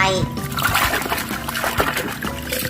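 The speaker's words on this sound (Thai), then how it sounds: "นี่ต้องล้างทรายออกก่อน" Water splashes and trickles while sand is washed off a toy truck, a busy, continuous wet spatter close by with a voice talking over it.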